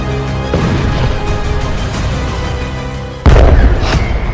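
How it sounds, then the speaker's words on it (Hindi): Explosions in Tel Aviv are captured in news footage as loud, dense rumbling booms, with a sharper, heavier blast hitting near the end of the short stretch. "तीन धमाकों से दहला तेल अवीव"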